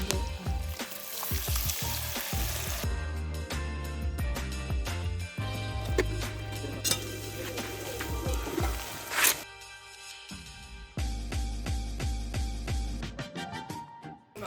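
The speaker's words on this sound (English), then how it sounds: "I'm just going to go ahead and throw in the fresh tomato and allow it to" Fresh tomato frying in a stew pot of meat, a steady sizzle with clattering stirs and utensil knocks, loud and close, with cooking noise shifting through several sections and no talk.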